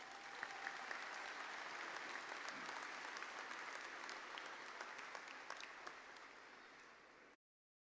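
Steady, moderately loud applause from a crowd honoring graduates at an MBA graduation ceremony, continuous dense clapping with occasional sharper claps, ending abruptly.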